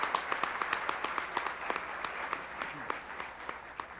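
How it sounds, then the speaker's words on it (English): Scattered applause from a banquet audience celebrating scholarship recipients. Individual claps stand out sharply over a soft, steady crowd wash, fairly quiet and evenly spread across the moment, with no voices. "Let's have another round of applause for our 1999 HAHMP scholarship recipients."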